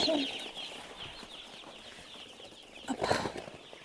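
Broiler and naked-neck chicks chirp and cluck faintly at a distance, with a brief burst of wing flapping and scuffling toward the end.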